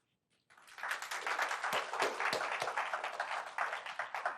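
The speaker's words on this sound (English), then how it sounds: "Let's give John one more round of applause" Audience at the close of a lecture on fifty years of risk assessment breaks into a sustained round of applause, rising after a brief silence into steady, moderately distant clapping with a few sharper claps.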